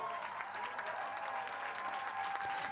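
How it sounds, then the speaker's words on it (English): Steady, dense applause from a crowd on the Cannes 2024 red carpet, filling the whole stretch without a break. "let's hear the encouraging applause"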